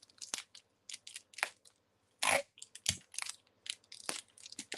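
Sticky tape ripped off a roll in quick, crackly bursts while making a shaker card, several sharp tearing strips close by with short pauses between, no talking.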